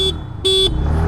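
Horn of a 110 cc scooter, a TVS Jupiter 110 or Hero Xoom 110, honked in short, loud, close beeps: two clear blasts and the start of a third, over engine idle.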